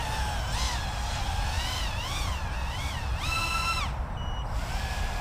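Holybro Shuriken 180 PRO FPV drone flying with its buzzer going off, a thin wavering electronic tone rising and falling over a steady, loud motor whine as the throttle is pushed to the top.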